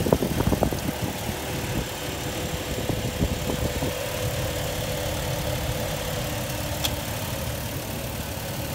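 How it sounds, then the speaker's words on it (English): A 4.0-liter inline six-cylinder engine idles with a steady low rumble, a few rough knocks and clatters early on, then settling into an even hum. "Inline six-cylinder engine."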